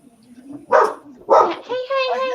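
A dog barks at the door indoors, two loud close barks followed by a whining, yelping call, with a person's voice nearby.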